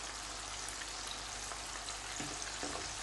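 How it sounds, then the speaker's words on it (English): Chicken pakoras frying in hot oil, a steady dense sizzle and crackle that stays close and even throughout with no talking. "as you can see, it's frying away"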